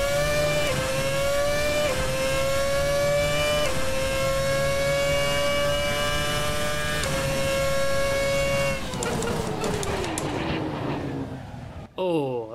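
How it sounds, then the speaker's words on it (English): A Brawn GP BGP-001 Formula 1 car with a V8 engine screams along a circuit, loud and close, its pitch climbing through several upshifts before dropping away as it brakes near the end. "It's quite nice hearing a V8 in a Formula 1 car."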